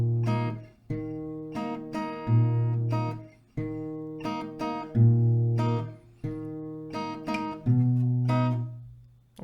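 Acoustic guitar plucking a song melody: a steady repeating phrase of clear, ringing picked notes over a sustained low open string, close and solo with no voice.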